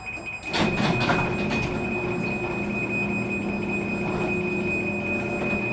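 A LiftMaster garage door closing, starting with a clunk and then a continuous loud rumbling, rattling drone from the motor and moving door that holds steady throughout.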